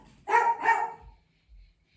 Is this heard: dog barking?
yes